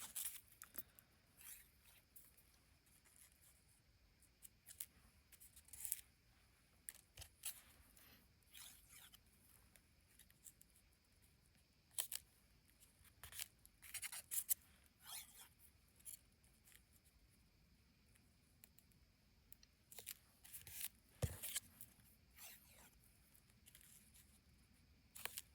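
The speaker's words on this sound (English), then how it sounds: "I'm just going to fussy cut around these." Paper is fussy cut by hand with small scissors around an index card: a long run of faint, irregular snipping and rustling clicks, close up, with no speech.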